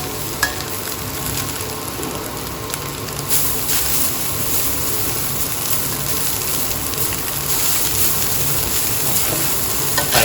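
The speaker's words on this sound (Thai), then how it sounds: "ผัดให้เข้ากัน จากนั้นก็ปรุงรสเลยครับ" Glass noodles stir-fry with fermented pork (naem) in a hot pan, giving a continuous loud sizzle with scraping stirs throughout and a slight rise in intensity partway through. No voices are present.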